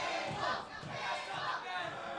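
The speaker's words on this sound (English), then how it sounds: "Crowd calling for a table." Wrestling crowd chanting for a table at an indoor event, a rhythmic, sustained roar of many voices rising and falling in waves, fairly distant and dense.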